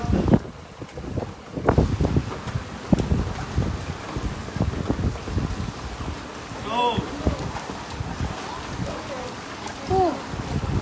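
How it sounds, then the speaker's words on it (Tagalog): Strong typhoon wind roars, swirls and buffets the microphone during heavy rain, with voices talking intermittently beneath the blustery noise. "makikita mo mismo live yung hangin, no? Umiikot, namumuo talagang sobrang lakas."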